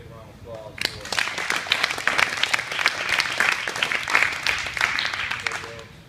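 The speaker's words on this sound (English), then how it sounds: "So big round of applause for" Sustained applause and clapping from an indoor crowd at a Brazilian jiu-jitsu gym ceremony, honoring a bronze medal winner; dense steady clapping for several seconds after a brief lead-in.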